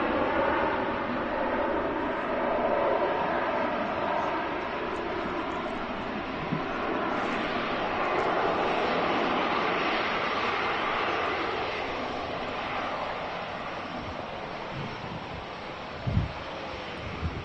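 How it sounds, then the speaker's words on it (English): Airbus A350 airliner taxiing out at Manchester Airport, a steady broad engine roar held at an even level throughout, with wind buffeting the microphone and a brief knock near the end. "the beautiful A350 head-on as it taxis out"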